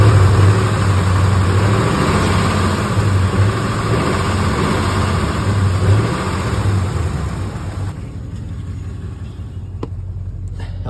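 A Ford F-150 pickup fitted with a swapped-in Lincoln Navigator engine runs loud and close, holding a steady, throaty rev and rumble for about eight seconds before easing back toward a lower idle, with no talking.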